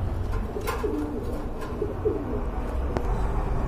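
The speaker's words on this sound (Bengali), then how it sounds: "মাশাআল্লাহ খুবই চমৎকার এক জোড়া কবুতর" A pair of pigeons coo softly in a low, rolling murmur over steady background noise, with a few faint chirps scattered through.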